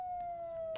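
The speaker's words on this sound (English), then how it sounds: "There's an ambulance coming." White Cross ambulance siren in León, Nicaragua, a faint, steady high wail sounding from a distance near a crowded hillside march.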